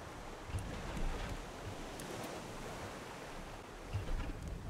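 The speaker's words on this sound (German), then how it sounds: "Ich komme durch die Wellen nicht mehr aufs Boot." Ocean waves in the survival video game Raft wash steadily around a boat at sea, with a soft continuous surf roar and gusty wind noise, with a couple of slightly stronger swells and no talking.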